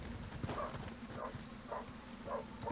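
A dog barks repeatedly at a steady rhythm, four or five short muffled barks at a moderate distance over a low background hum.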